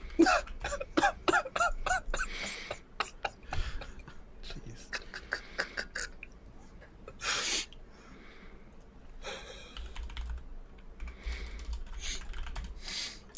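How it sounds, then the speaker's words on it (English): Fast, furious typing on a computer keyboard, a dense run of key clacks early on that thins into scattered taps, with breathing and faint talk in the background. "We're all typing furiously now."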